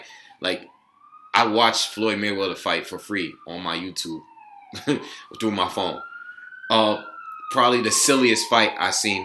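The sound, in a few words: police sirens outside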